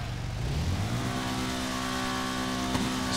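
A motorcycle engine in GTA Online, fitted with an upgraded exhaust, revs loudly and steadily with a rising then sustained tone, close and continuous, with no talk over it.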